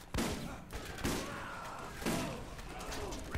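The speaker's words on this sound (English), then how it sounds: "This man is shooting me with the heavy gun" A heavy gun fires in Borderlands, with a few loud, booming shots spaced about a second apart, each followed by a ringing tail, while a voice faintly talks underneath.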